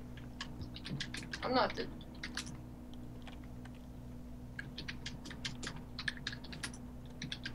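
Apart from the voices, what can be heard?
typing on a computer keyboard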